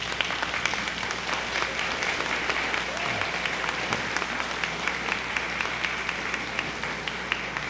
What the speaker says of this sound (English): we want to give everybody a nice round of applause